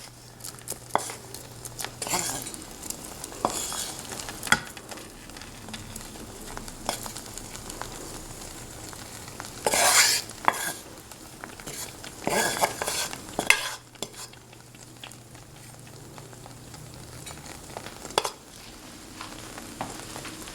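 Pork and pepper mixture spooned onto a half-set omelet in a pan, with scraping, stirring and clatter over a low, steady sizzle, a few louder clunks of the utensil against the pan.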